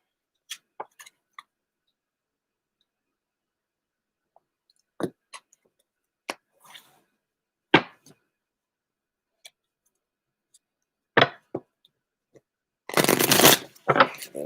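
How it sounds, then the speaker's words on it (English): Tarot cards are handled with sparse, soft taps and flicks, then riffled in a brief, loud, dense shuffle near the end, close and otherwise quiet. "And a shuffle."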